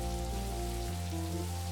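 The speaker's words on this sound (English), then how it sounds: "Just try and enjoy the rain." Soft rain patters steadily in Necrobarista, a diffuse hiss lying beneath sustained mellow music chords that shift partway through.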